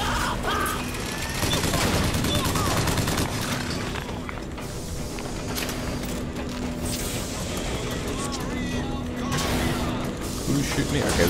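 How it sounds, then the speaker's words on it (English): Enemy gunfire in the shooter game Bioshock Infinite, a dense run of rapid shots and booms continuing throughout, with a player talking over the action. "This guy's shooting me now"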